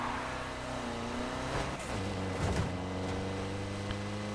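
A VW Beetle engine in a racing video game revs and rises in pitch, fairly near and steady, with a few brief surges and shifts and no talk over it.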